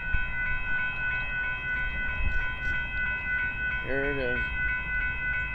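A northbound Union Pacific rock train passes at a road crossing in Austin, Texas, its steady rumble continuous throughout, with a brief horn-like tonal call near the end and a person speaking briefly over it.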